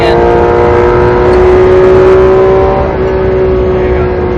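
A Porsche 911 GT3 RS race car at Las Vegas Motor Speedway accelerating on track, a loud sustained engine drone rising slightly in pitch, heard close and steady from inside the car.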